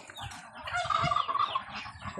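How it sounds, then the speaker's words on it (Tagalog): Farm fowl squabbling as a goose goes after a duck, with loud honking and squawking calls building through the middle of the clip over constant background chatter of other birds. "Inaaway ng gansa ang pato."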